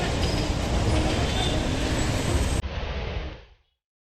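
Dense street traffic in Parel, Mumbai, held up by a Ganpati arrival procession, rumbles steadily with engine noise and a general roadside din, close and continuous, then cuts out abruptly near the end.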